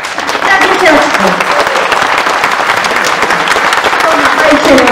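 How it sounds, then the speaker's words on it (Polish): Warm audience applause for girls and children at a Christmas nativity play, loud dense clapping sustained throughout after a brief quieter start, with voices faintly underneath. "gorące brawa dla dziewczyn i dla dzieciaczków"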